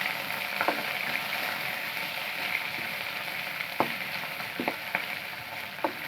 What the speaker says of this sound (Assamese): ভালদৰে ভাজি ল'ম